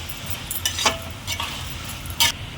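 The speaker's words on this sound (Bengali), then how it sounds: "ভালো করে নাড়াচাড়া করছি পেঁয়াজ, আদা রসুন, টমেটো এবং" A spoon stirring chicken with onion, ginger, garlic and tomato in a hot pan: soft, irregular scrapes and a few sharper clinks over a low, steady sizzle, close by.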